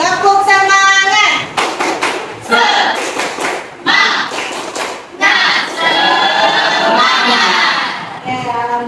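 A school class does a rhythmic cheer clap, loud patterned claps and thumps mixed with children's shouting voices, in bursts across the whole stretch.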